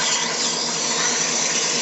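Sandpaper works the inside of a spinning wooden toothpick holder on a lathe, a steady close broadband hiss that holds evenly throughout without talking.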